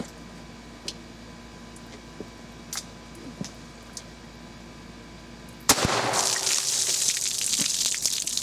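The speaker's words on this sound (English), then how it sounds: "next we're going to try the CCI Stinger," A single sharp gunshot from a .22 LR rifle firing a CCI Stinger 32 grain hollow point cracks loudly near the end, after several seconds of quiet outdoor ambience with faint clicks and handling noises.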